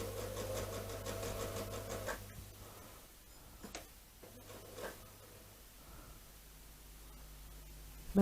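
A sewing machine runs a quilt block seam at a scant quarter inch, giving a quiet rapid ticking whir for about two seconds, then stops. Faint handling rubs and small clicks follow.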